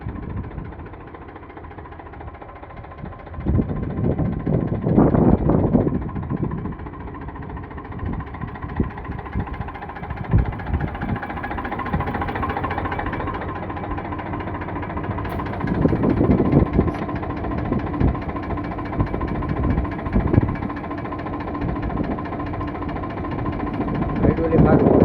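A used 2015 tractor engine idles with a low, continuous hum while people talk over it at length.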